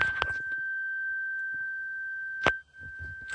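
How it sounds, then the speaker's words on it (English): A second-generation Lexus IS 250 warning beep holds a steady electronic tone for several seconds with a few faint clicks and knocks around it, then cuts off briefly and resumes. "it's gonna beep again"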